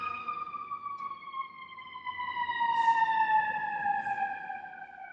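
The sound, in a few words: ambulance siren passing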